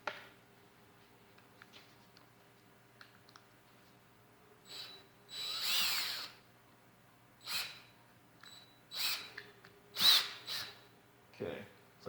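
A power drill driving a screw into a wooden dowel on a skeleton figure, several short whirring bursts of varying length, close and moderately loud, separated by quiet pauses.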